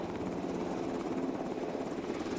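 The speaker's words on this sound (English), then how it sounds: "Helicopters, rather than parachutes or gliders, could deliver forces deep behind enemy lines." A military helicopter flies overhead with a steady, loud rotor thrum and engine roar that holds constant throughout, with no voices.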